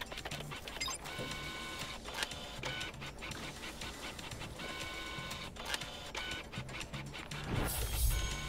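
A printer in the Deceive Inc. spy game runs on and on with busy mechanical whirring, clicking and shuttling, a rhythmic, steady machine churn that carries through the whole stretch with no talking.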